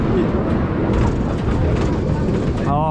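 A side-friction scenic railway ride at the Wiener Prater amusement park rumbles along its track, a steady loud roar throughout with voices talking over it.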